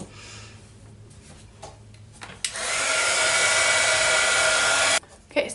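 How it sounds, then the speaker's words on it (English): After a few soft handling clicks, a hair dryer blows steadily for about two and a half seconds to dry paint on a craft paintbrush, close and loud, then switches off. "I'm going to go ahead and dry that."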